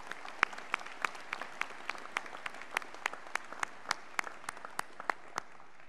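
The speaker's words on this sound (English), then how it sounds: "Let's give all of our award winners a round of applause for their lifelong dedication to our students and" Applause from a commencement audience for award winners at the 2018 JJC ceremony, heard as sparse, distinct claps ringing out at a fairly regular rhythm, moderately faint and somewhat distant.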